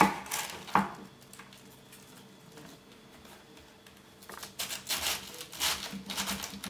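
A knife cutting through a head of cabbage into thick rounds on a board, a few crisp chops spaced apart, then a quicker run of cuts, close and fairly quiet.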